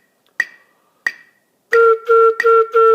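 A flute plays a string of short tongued notes in an even pulse, following two sharp clicks that count it in. The notes are close, loud and solo.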